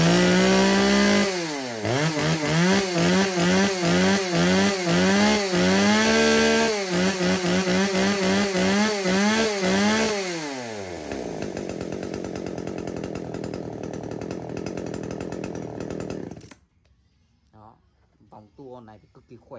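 A petrol chainsaw engine in a shop lot of STIHL, Husqvarna, Komatsu, Echo and Makita saws, revved repeatedly in loud rhythmic bursts, then held at a steady idle before cutting off, followed by brief talk.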